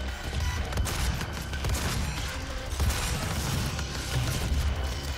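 Repeated grenade blasts and heavy booms in the video game DOOM, loud and dense over several seconds with crashing impacts and some gunfire mixed in.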